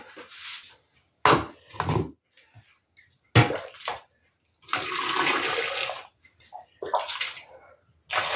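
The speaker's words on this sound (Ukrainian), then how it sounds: "І так всі зараз залю гарячою водою." Bursts of running, splashing hot water come and go in short pours over jars of pickling cucumbers, with a longer steady pour in the middle, close by and fairly loud.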